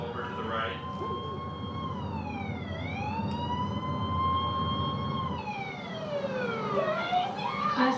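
An ambulance siren wails through a loud, gliding pitch sweep that dips and rises again, continuous and fairly close over rumbling traffic and background noise, with speech faintly mixed in.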